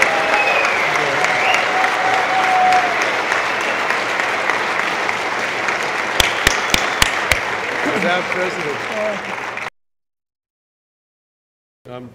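An Explorers Club audience claps warmly for returning cave-diving expedition members, a sustained round with a few sharp close claps, voices murmuring beneath, before it cuts to silence.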